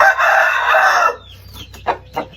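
A rooster kept for cockfighting training crows loudly and close for about a second, followed by a few short, lower clucks.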